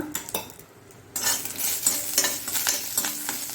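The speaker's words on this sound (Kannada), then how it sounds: "ಇನ್ನು ಇದನ್ನು ಸ್ವಲ್ಪ ಚೆನ್ನಾಗಿ ಫ್ರೈ ಮಾಡಿಕೊಳ್ಳೋಣ." Curry leaves frying in hot oil for a Mangalorean raw banana and dry prawn sukka, with a spoon stirring and scraping the pan over a steady close sizzle that swells after a quieter start; no talking.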